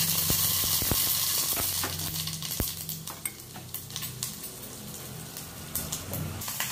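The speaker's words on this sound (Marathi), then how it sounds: "तेल तापले की हिंग, मोहरी आणि जिरा अशी आपण फोडणी देणार आहोत" Mustard seeds, cumin and asafoetida sizzle in hot oil in a pan for a potato bhaji tempering, a steady close crackling hiss with scattered sharp pops and light utensil clinks, no talking.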